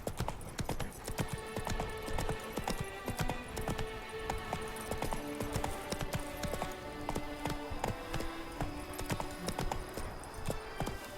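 The horse Roach gallops in The Witcher 3: Blood and Wine, hooves clattering in a fast, continuous rhythm close by, with faint game music layered underneath.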